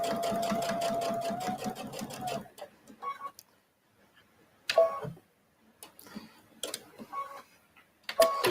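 A sewing machine stitches a quarter-inch seam on quilt binding in a fast, even run for a couple of seconds, then stops, followed by faint handling clicks and taps.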